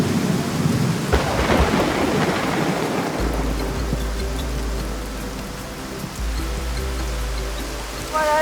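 Heavy tropical downpour on a Thai island, a steady loud roar of rain hitting surfaces with a deep rumble of thunder rolling through, and no voices.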